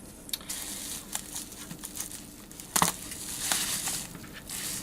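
Packaging for Minitrix model rolling stock crinkles and crunches close by as it is opened, with soft rustles and one sharper crackle partway through, and no talking.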